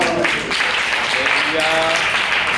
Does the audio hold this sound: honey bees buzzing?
no